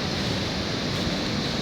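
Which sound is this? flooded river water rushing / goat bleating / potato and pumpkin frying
flooded river water rushing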